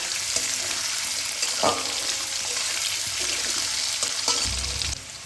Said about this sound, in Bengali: 3-4 মিনিট হাই ফ্লেমে এটাকে আমি কুক করতে থাকবো।